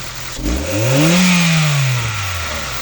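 An engine driving a pump revs up from idle, its pitch rising smoothly, holding, then falling back, loud and close with no talk over it.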